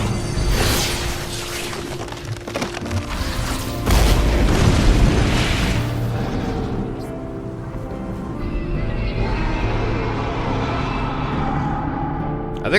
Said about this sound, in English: Maybe they survived that explosion.